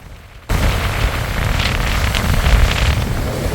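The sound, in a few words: strong wind roaring by the Amur river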